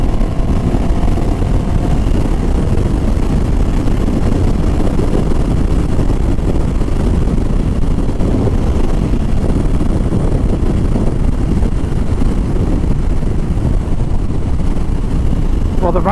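A 2024 Moto Morini Calibro Bagger motorcycle at riding speed gives a loud, constant roar of wind buffeting the microphone over a steady engine drone, with a voice faintly mixed in.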